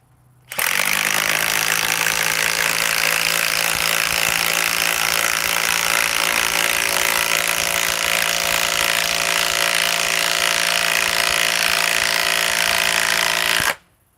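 A Milwaukee M18 stubby impact wrench spins a chrome socket in one long continuous run of about thirteen seconds, a loud, steady mechanical whine and rattle that starts abruptly and cuts off cleanly, with no talking.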